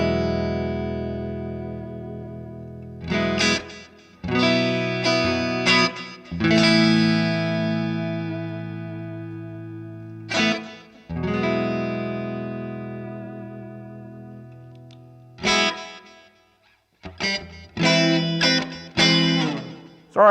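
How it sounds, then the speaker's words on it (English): An electric guitar played through a Way Huge Conspiracy Theory or Klon Centaur overdrive, with Strymon Flint reverb and a Boss DD2 slapback delay, rings out in distorted chords and picked phrases, each note trailing a short echo and reverb tail. "we're getting some reverb from a Strymon Flint. I'm getting a slapback of delay from a DD2"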